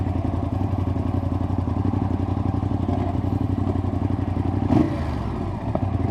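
A Ducati motorcycle engine idles in neutral close by, a loud, steady, lumpy rumble that continues throughout with a brief clatter near the end.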